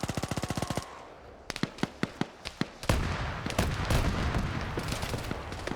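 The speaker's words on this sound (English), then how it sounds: "the autocannon firing there has just given himself away" An autocannon fires in a video game: a rapid, evenly spaced burst, then a few spaced single shots, then heavier rumbling fire that continues to the end.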